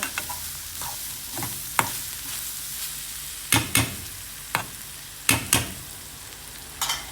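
Small shallots and coconut stir-fried in a pan over low heat, a soft background sizzle broken by several sharp scraping strokes of a spoon, close and irregular.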